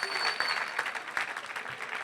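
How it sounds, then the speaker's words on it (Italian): An audience at a conference session in Cagliari's Zedda hall applauds continuously for parents seated in the front row, a dense, moderately loud patter of many hands that holds steady throughout. "Fate un grosso applauso a questi genitori che sono in prima fila"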